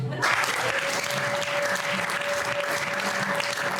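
A church congregation claps for God, loud sustained applause that starts abruptly and continues as a dense, even roar of many hands throughout.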